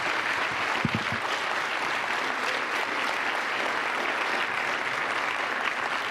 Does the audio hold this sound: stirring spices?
no